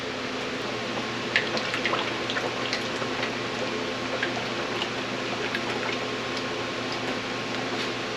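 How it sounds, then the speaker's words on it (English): Drained AOD transmission fluid from a Ford Econoline E150 van is poured into a waste oil container, a steady even stream of liquid with faint drips, no talking. "let me dump this in my waste oil"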